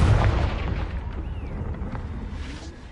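A fiery explosion from the Confringo spell in the video game Hogwarts Legacy, a loud booming burst at the start that rumbles and fades into a lingering roar.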